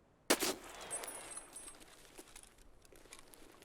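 Gunfire in a video game firefight on the Customs map: one sharp, loud shot bursts out close, then a short rattle of follow-up reports fades into a quieter, crackling tail.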